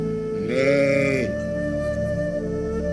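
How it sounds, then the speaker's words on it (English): Sheep grazing in rocky Norwegian countryside bleat once loudly and close, a wavering call of under a second, followed by a quieter stretch of low outdoor background. "herds of sheep can be seen grazing"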